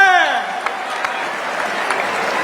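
A poetry gathering audience applauds loudly and steadily, a dense wash of clapping that holds at an even level throughout, with a tone fading out at the start.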